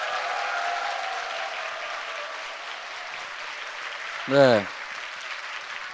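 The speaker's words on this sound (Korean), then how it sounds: "힘찬 박수 부탁드리겠습니다." Audience applause at a 2016 political lecture held in a church in Busan, a steady broadband wash of clapping that fades gradually, with a brief spoken word near the end.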